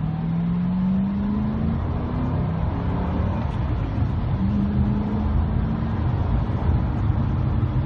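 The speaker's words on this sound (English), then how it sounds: "I'll kind of do a little acceleration run here." A car with tires in sketchy condition accelerates in a half-throttle run to about 60 mph, its engine note climbing steadily and loudly over constant road and cabin rumble, with no talk.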